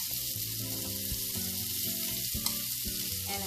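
A paratha cooks in butter in a pan, giving a dense, steady sizzle with some tonal hum underneath, close and continuous, with no voices.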